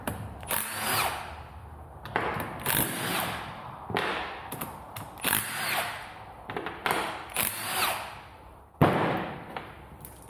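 An impact gun on the 14mm bolts of a Lotus Exige S2 gearbox during teardown, several loud rattling bursts of a couple of seconds each, separated by short pauses, close up.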